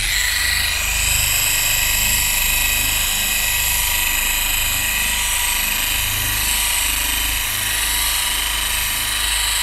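Dino Kraftpaket 74mm eccentric polisher running on speed level 1, a close, loud, steady mechanical whine and hum that holds constant throughout.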